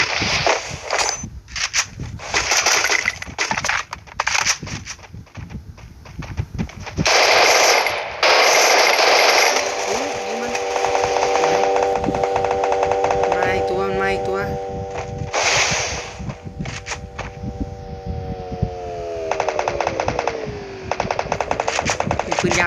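Rapid automatic gunfire bursts and single shots from the Free Fire mobile battle royale game, loud and close, interleaved with a vehicle engine drone and game effects, with a voice speaking now and then.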